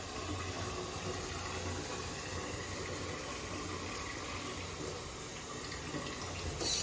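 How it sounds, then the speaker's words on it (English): Shower water runs in a steady, unbroken hiss of spray, close and constant throughout, with no talking. "Shower time."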